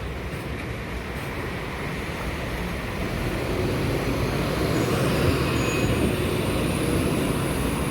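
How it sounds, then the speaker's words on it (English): Train replacement buses roll past the Holmsglen TAFE bus stop one after another, a steady engine rumble that swells louder toward the end as the second bus approaches close by. "this train replacement bus is going, but right behind it is another train replacement bus."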